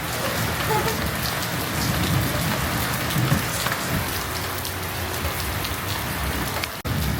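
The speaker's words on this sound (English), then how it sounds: "It's raining." Steady rain patters densely on surfaces all around in Moalboal town, southwest Cebu, the Philippines, a constant wash of drops with no voices, close and fairly loud throughout.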